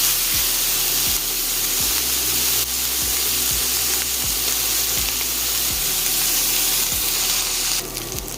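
A couple of pieces of meat fry in a pan, cooked down for renderings to add to black-eyed peas. The result is a loud, constant, dense sizzle close by, with faint low thumps underneath.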